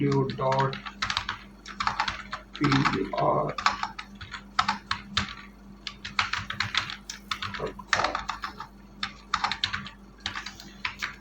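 A computer keyboard clatters with quick, irregular bursts of keystrokes as a website address is typed during an Adobe Illustrator business card design session, close and fairly soft, with a voice briefly audible at the start.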